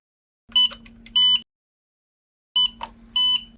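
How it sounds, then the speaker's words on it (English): Two pairs of short, high electronic beeps from a battery charger entering update mode, each pair a quick double tone, separated by a couple of seconds of silence. "Those beeps let you know that the charger is in update mode"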